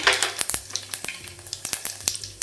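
Cumin seeds and curry leaves crackle and sizzle in hot oil for moong dal aamti, a dense run of sharp pops and spitting over a steady frying hiss, close and fairly loud.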